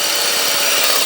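A power drill bores into mangled brake rotor screws on a 2005 Honda Accord front brake, a loud continuous high whine with gritty metallic grinding, close and alone without voices.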